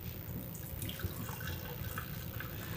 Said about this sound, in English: Always have problems pouring in cans, but this one actually looks like it's going pretty well.